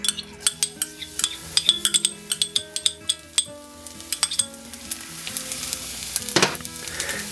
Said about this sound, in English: Tiny bit of oil in there, and then we can add our garlic,